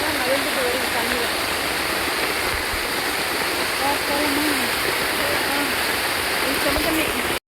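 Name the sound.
rain-swollen stream water flowing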